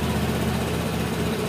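A Vespa scooter engine idles fast just after starting, giving a steady, even buzzing drone with no change in pitch, close up, with no talking.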